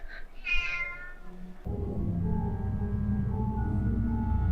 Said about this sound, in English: Oh, this bloody cat.